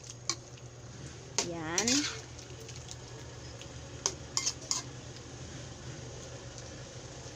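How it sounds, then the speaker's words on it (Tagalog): A spoon stirs pork adobo with fried garlic in a pan, giving a few sharp scrapes and clinks over a soft simmer, with a brief spoken word. "Haluin para yung 4 cubes matunaw."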